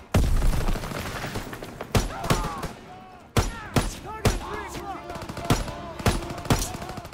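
Gunfire in the video game Call of Duty: WWII during a campaign mission: sharp, loud shots fire in an irregular burst pattern, with some voice underneath.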